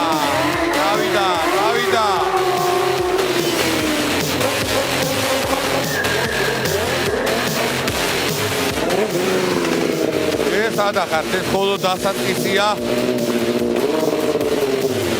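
A motorcycle engine revs and whines through a stunt routine at a live talent show, rising and falling in pitch repeatedly, loud and close, with a commentator talking over it throughout.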